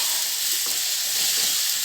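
Tomatoes and spices frying in a pan with a steady, close, even sizzle, and a soft stirring clink or two, with no talking.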